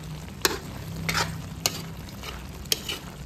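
Dinuguan, a pork blood stew, cooks in a pot with a low, steady bubbling and sizzling bed beneath several sharp clinks of a utensil against the pot, all close by.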